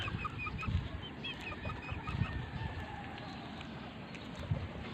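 Small dwarf chickens cluck repeatedly in a neighbour's yard, a steady scatter of short clucks and calls at moderate distance over a rustling, breezy outdoor background, with no talking.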